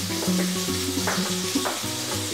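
Squid sizzles and fries in a hot pan for paella, a steady crackling hiss with light stirring clatter and a faint background tone, close and continuous with no talking.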